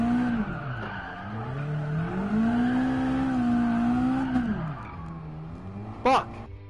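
A car in Gran Turismo 7, driven with a G29 racing wheel, drifts around cones with a long, wavering tire squeal over a droning engine, ending in a brief sharp burst of noise.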